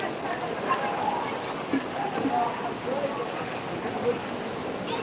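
Heavy rain pours down as a dense, even wash of noise at an outdoor lawn venue in Kamati, with faint voices murmuring beneath it.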